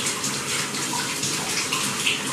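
Bathtub filling from the tap in winter, a steady broadband rush of running water that holds an even level throughout with no pauses.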